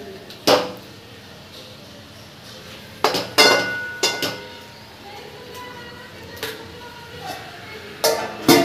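A lid is set on a cooking pot of desi-style liver kalage, giving several sharp metallic clinks and clatters spaced across the stretch, close and fairly loud.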